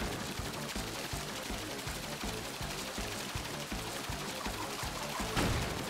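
Continuous spraying water from the in-game water pack in Super Mario Odyssey, a steady dense hiss held for several seconds over rhythmic game music, swelling slightly near the end.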